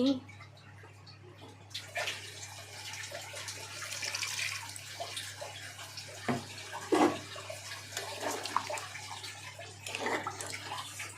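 Water is poured from a vessel into a beef curry to make gravy, a splashing, trickling pour near the microphone that comes in irregular bursts, with faint background noise between them.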